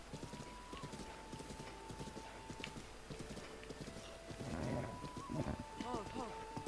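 Horse hooves clip-clopping in Zelda Breath of the Wild: steady, soft rhythmic hoofbeats under game music, with a horse snort or whinny near the end, while someone talks in German.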